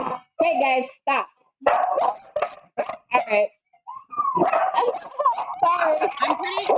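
Dogs barking and yipping at one another while squabbling over food, short sharp barks broken by pauses and then a longer stretch of whiny yelping, with people talking nearby.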